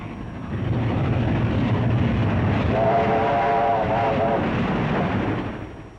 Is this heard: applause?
no